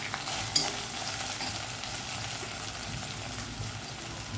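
Potatoes sauté in a pan with a soft, continuous sizzle. A single sharp scrape or knock of a spoon comes early, and then the frying hiss carries on quietly.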